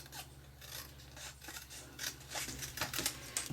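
Scissors cut through card stock close up in a series of crisp, rasping snips that come quicker and louder toward the end.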